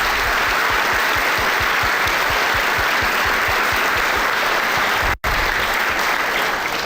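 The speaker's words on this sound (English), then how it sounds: "So I want to give them a huge round of applause." An audience at an Arkansas LEARNS town hall claps in a dense, steady round of applause with no voices over it. It dips sharply for a moment near the end, then resumes at full strength.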